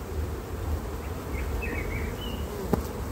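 Honeybees buzz in a continuous, even drone around an open hive during a colony inspection, close and steady, with a few faint higher tones and a short tap near the end.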